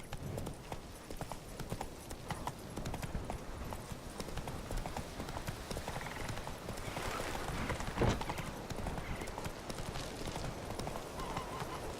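Roach, a horse in The Witcher 3, gallops with a continuous drumming clip-clop of hooves, loud and close, over a low rumble, with a sharp bump near the end.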